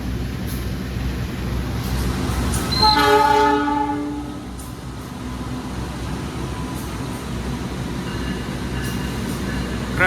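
A Rail Sprinter train passes at speed on an Indonesian line. A dense, continuous roar of wheels and rushing air fills the whole stretch, and a brief horn blast sounds early on over the steady rumble.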